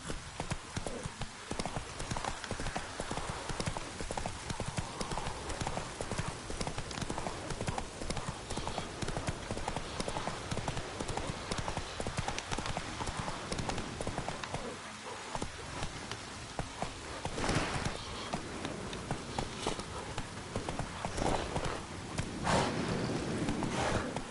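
Horse hooves clip-clop in a steady, continuous gallop rhythm in The Witcher 3, close and busy throughout, with rain-like hiss mixed in beneath the hoofbeats.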